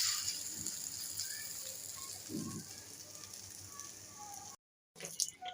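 Fish fries in hot oil during home cooking at midday, giving a soft, steady hiss and crackle at low volume, briefly cutting out near the end before resuming.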